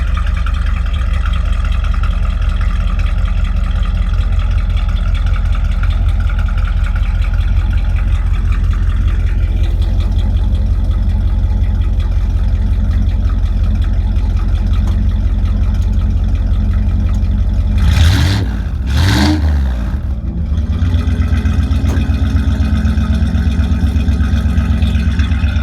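A 1987 Dodge D100 pickup with Cherry Bomb mufflers idles up close with a steady, deep exhaust rumble, briefly blipped twice by quick throttle revs before settling back to a mellow, even idle.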